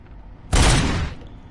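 A single loud gunshot blast in the Robocop Rogue City video game on PS5, an abrupt burst that lingers for about half a second before trailing off.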